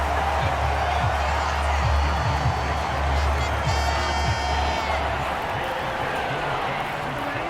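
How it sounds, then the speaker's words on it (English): A football stadium crowd roars in a broad, continuous wash of cheering that swells and holds under a commentator's voice, with faint whistling and noise filling the whole stretch. "This crowd turning up the decibel level"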